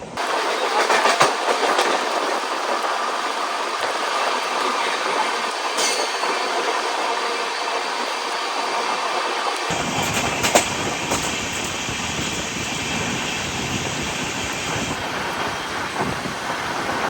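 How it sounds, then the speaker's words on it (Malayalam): A Shalimar–Thiruvananthapuram Superfast train rolls past on the rails with a loud, steady rumble and clatter that stays dense throughout and deepens partway through. "Shalimar Thiruvananthapuram super fast third വരുന്നു"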